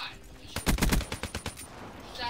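A quick burst of rapid gunshots in Black Ops 3, about eight sharp shots fired in a tight rhythm, close and punchy, with little else around them.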